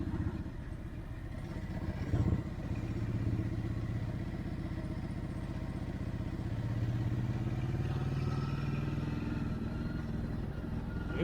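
A Ducati Hypermotard 950 RVE rumbles at low speed through a roundabout, its engine steady and close with a deep, throbbing note and slight throttle swells, heard under wind buffeting with no voices.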